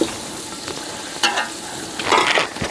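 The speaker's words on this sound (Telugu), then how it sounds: "ఇది అల్లం పేస్ట్ తెల్లగడ్డ పేస్టు ఇది ఫ్రైకి అన్నమాట వేసి అయితే పచ్చివాసన పోయే వరకు వేసుకుందాం" Ginger garlic paste fries in a pan for a chicken biryani, a close sizzle broken by two short bursts of spatula stirring and scraping.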